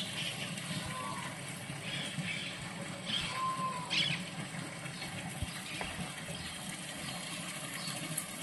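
Natural water flowing steadily outdoors during the monsoon season, a continuous close rush and gurgle that holds at an even level throughout, with a few faint brief sounds on top.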